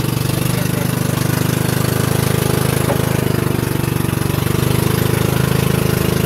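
The engine of a vehicle carrying several passengers drones at a steady, low idle-like hum, loud and continuous throughout with no change in pace.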